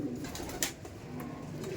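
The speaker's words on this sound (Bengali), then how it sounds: "এইগুলো কিন্তু কালদম পায়রা" Kaldom pigeons at a pigeon loft give soft, low cooing that continues steadily through the moment, with a few brighter flutters or clicks, close and moderately quiet.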